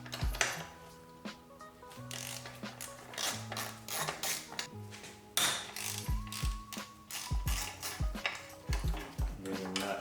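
A hand ratchet turns a 6 mm hex bolt while a motorcycle frame is taken apart, giving quick runs of clicks and metal knocks close by. Low background sound runs under it throughout.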